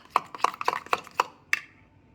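Homemade Korean-style night cream gel is mixed in a small container, giving six sharp, evenly spaced knocks and clicks of the utensil against the vessel, close and clear with no talking.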